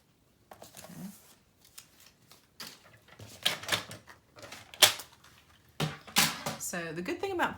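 Paper photo insert for a memory box being trimmed, with crisp scissor-like snips and paper rustling in short irregular bursts, close and moderately loud, with soft handling sounds between cuts.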